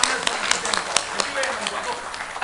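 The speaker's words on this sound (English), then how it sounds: "So why don't we again give them a round of applause for" Scattered clapping from an audience at a panel discussion on women's entrepreneurship and empowerment in Manipur, sharp uneven claps under continuous talking.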